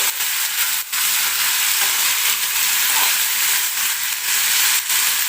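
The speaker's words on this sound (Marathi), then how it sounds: "तेलामध्ये घेवड्याची शेंग टाकून घेतलेली आहे." Tender hyacinth bean pods fry in hot oil in a pan. A loud, steady sizzle and hiss sits close by, with faint stirring scrapes breaking through now and then, and no talk.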